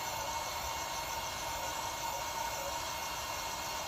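A small handheld vacuum runs steadily, collecting Stenocereus queretaroensis cactus pollen: a constant, close, even whir with a broad hiss and no break for its whole length.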